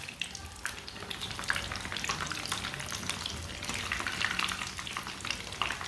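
A cheese sandwich fries in a pan, giving a steady soft sizzle with light crackling throughout, fairly faint and with no talking.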